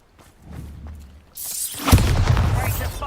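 A Bombarda blasting spell from the video game Hogwarts Legacy goes off with a loud whooshing burst and heavy boom, followed by shattering debris and rumble, after a quieter stretch of faint game sounds and voice.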